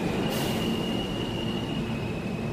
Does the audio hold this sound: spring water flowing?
no